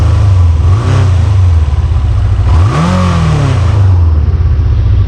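Yamaha XJ 600 motorcycle engine running close by, a steady loud idle with two quick throttle blips that rise and fall in pitch before settling back.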